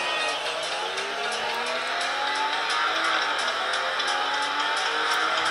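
Race cars in a racing video game played on a Samsung Galaxy Tab Pro 10.1 roar continuously with rising and shifting engine whines, several cars close together, loud and unbroken.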